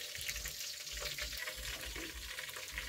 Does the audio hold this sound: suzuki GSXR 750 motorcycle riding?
no